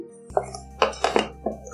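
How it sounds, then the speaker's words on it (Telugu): A kitchen bowl is picked up and set down while idli batter is being prepared, giving a few sharp clinks and knocks against a low steady hum, spaced over under two seconds. "ఇప్పుడు 1 గిన్నె తీసుకుని"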